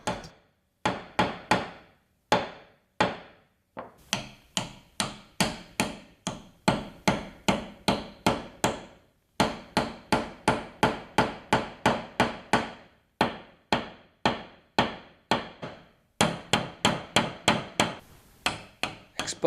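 Repeated hammer blows drive wooden wedges into exposed through tenons on an avodire bench for a Japanese room, a steady series of sharp, close knocks in quick bursts separated by brief pauses, with no talking.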